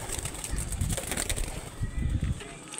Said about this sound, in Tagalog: palapad na naman kitang kalapati ko